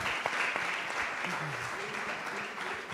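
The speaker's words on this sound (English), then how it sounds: "big applause to Yolene." Applause from a conference audience at a vocational excellence event, a steady broadband clapping wash running the full length, moderately distant, with faint voices underneath.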